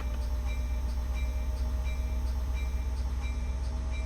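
A Caltrain locomotive pulls away in Train Sim World 2020 on the Peninsula Corridor, a steady low diesel rumble with faint regular clicking on top and no voices.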